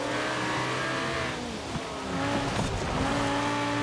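A car engine revs hard and tyres squeal as it slides on wet roads in the racing game Forza Horizon 4, the engine loud and continuous with rising and falling pitch, no talk.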